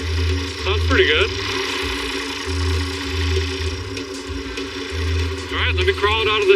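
Close by, the engine of a 1951 Nash Statesman sedan idles in a shed with a steady, rhythmically pulsing low rumble, while brief vocal sounds rise over it now and then.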